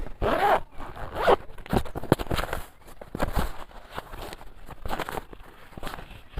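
A zipper on a bag pocket is drawn open in several quick rasping pulls, close and fairly loud, with light rustling of the bag between strokes.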